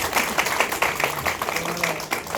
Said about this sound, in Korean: 우리 큰 박수를 일단